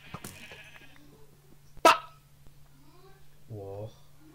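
A Minecraft sheep gives a short, clear bleat near the end, with game sounds and a steady low hum underneath and a sharp click just before it.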